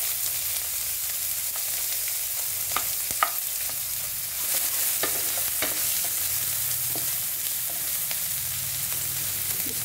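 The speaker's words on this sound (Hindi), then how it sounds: "अब मैं इसके अंदर प्याज ऐड कर रही हूँ" Onions hiss and sizzle steadily in hot oil with asafoetida and crackling whole spices for a mixed vegetable dish, with occasional sharp pops and spatula clicks over a constant close frying wash. No one speaks.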